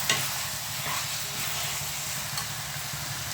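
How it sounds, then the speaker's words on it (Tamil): Chicken masala with salt sautés in a pan for a chicken and amaranth-greens curry, a steady close sizzle with spatula stirring running throughout, no voices. "உப்பை சேர்த்து நல்லா வதக்கிக்கிறேன்"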